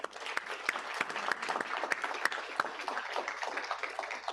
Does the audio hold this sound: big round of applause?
yes